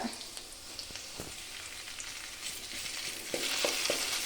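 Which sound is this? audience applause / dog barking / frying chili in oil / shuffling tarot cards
frying chili in oil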